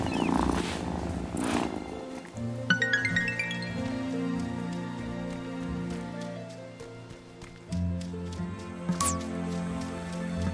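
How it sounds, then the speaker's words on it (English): A cat purring in the video game Wylde Flowers, a close, steady rumbling purr that carries through the whole stretch, set against sustained tonal game sounds and a few brief chimes. "Oh, what a good purr."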